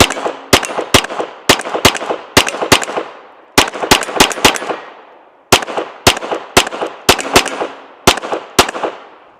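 Sharp, loud gunshots from a Smith and Wesson M&P 22X .22 pistol crack in quick irregular strings, each with a short ringing tail, with brief pauses between bursts and no talking.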